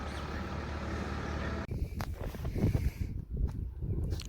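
A Farmtrac 60 tractor runs in early-morning farm fields as a steady low engine rumble mixed with gusty wind noise, shifting in character partway through.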